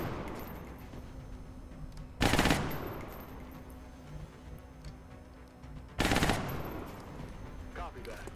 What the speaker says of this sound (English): Suppressing fire on target.